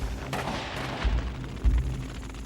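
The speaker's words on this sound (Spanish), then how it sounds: "Enseguida comenzamos a oír disparos de mosquete" Musket volleys in a scene of betrayal and a burning palace in feudal samurai-era Japan: several sharp, booming shots crack out at uneven intervals over a dense rumbling background, fairly close and loud.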